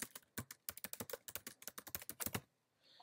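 Someone types a project name on a computer keyboard, a rapid burst of close, crisp keystrokes for about two seconds, then quiet.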